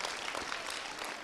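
An audience claps together in a steady, dense burst of applause that holds at an even level throughout, with no speech over it.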